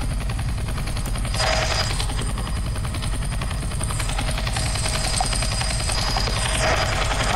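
A helicopter in the Roblox game Airplane Simulator produces a loud, continuous rotor chop and engine roar that holds steady throughout, with no talking.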